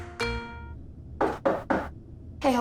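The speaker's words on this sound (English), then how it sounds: "Hey, hold on, someone's at the door." Knocking at a door: three quick, sharp raps in a tight row, then a fourth after a short pause, preceded by a brief ringing tone at the start.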